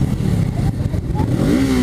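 A Honda CB650R motorcycle engine revs loudly and close, its rising mechanical whine climbing toward the end with no talk over it.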